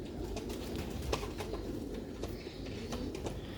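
Black-faced pigeons coo softly amid a low rumbling background, with faint bird calls and clicks scattered across a few seconds.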